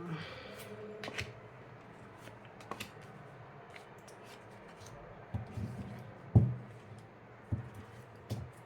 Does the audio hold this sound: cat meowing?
no